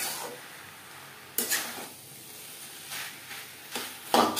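Chopped banana stem is stir-fried in a wok over a high-to-medium gas flame; soft hissing runs under occasional scraping and clanking strokes of a spatula, fairly quiet and without speech.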